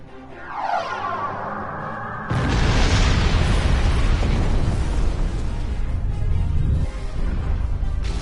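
Starship weapon hits burst in Star Trek Online, a descending laser-like sweep followed by a loud, sustained rumbling explosion that swells and holds for several seconds before a second jolt near the end.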